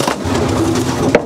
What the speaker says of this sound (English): Very nice pigeons.